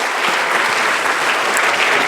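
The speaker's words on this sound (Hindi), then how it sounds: "तो आप लोग ताली नहीं बजाएंगे तो उनको कैसे मन करेगा करने का?" An audience at a Rotary Club and private school association gathering applauds, with dense, steady clapping that fills the whole short stretch at an even loudness.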